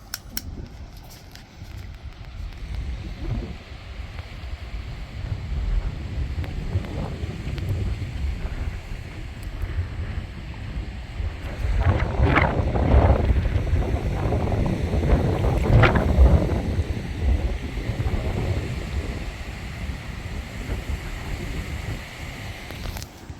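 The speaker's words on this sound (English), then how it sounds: "I went to the duck hatch to show you how blustery it was." Blustery wind rushes and swells in gusts around a narrowboat on a deep canal in South Yorkshire, rising louder midway, with water lapping and faint creaks close by.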